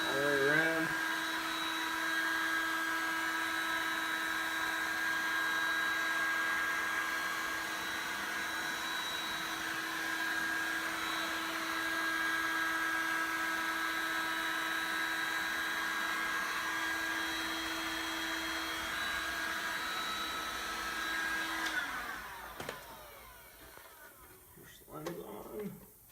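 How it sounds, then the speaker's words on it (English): A heat gun blows hot air onto a pickup truck headlight in a steady whining hiss that runs for most of the stretch before cutting off, followed by faint handling clicks, with someone talking intermittently. "give it a blast of heat, warm it up some all the way around"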